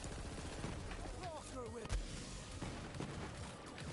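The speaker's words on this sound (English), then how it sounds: "Let's take some of his ads out so it stops shooting me" Enemy gunfire in the looter-shooter Borderlands 3, a steady busy layer of shots and impacts mixed with game effects, moderately quiet and continuous throughout.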